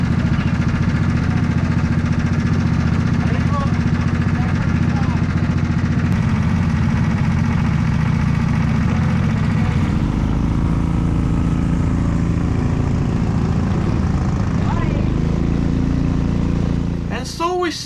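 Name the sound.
race car engine idling and rumbling through pit lane, racing video game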